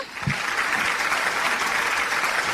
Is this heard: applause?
yes